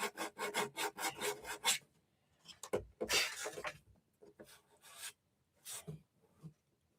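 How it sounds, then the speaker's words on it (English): Sandpaper rubbing primer off a surface in a quick series of rhythmic strokes at first, then slower scattered rasping passes with pauses between, close by and fairly quiet. "then you sand all the primer off"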